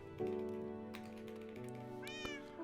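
A cat in the Minecraft video game gives a single short, rising meow near the end, heard over steady background game music.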